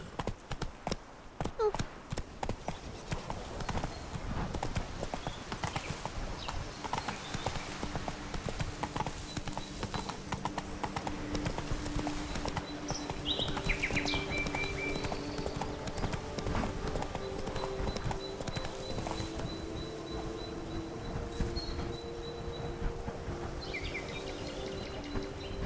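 A horse gallops in The Witcher 3 video game, its hooves clip-clopping in a quick rhythm on the ground, with faint birdsong and a low music bed underneath.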